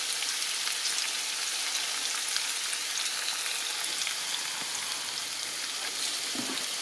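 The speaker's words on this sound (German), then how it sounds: "Die Topinambur braten jetzt vor sich hin." Jerusalem artichokes frying in a pan over low heat on a gas stove, giving a steady, even sizzle with fine crackling that runs unbroken and alone.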